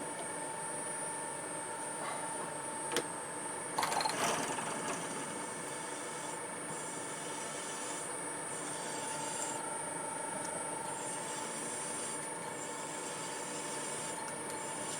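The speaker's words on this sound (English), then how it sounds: "Tough stuff to drill, that is." A drill press at slowed revs boring a 10 mm hole through tough metal under light quill pressure, giving a steady, even grinding hum with a faint high whine, a couple of brief sharp knocks near the start, no talk.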